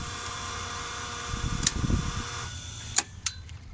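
A steady mechanical hum from a Pentair Superflo VS variable-speed pool pump runs, then winds down and drops away as it shuts off, leaving a couple of faint clicks in the quieter air.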